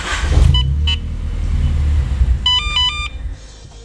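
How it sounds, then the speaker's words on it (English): A car engine with its fuel pump unplugged rumbles briefly and then fades out as it dies. Electronic beeps chime near the end. "Now you're going to start the car, and it might turn on, but wait for it to die, or crank it for like 5 seconds."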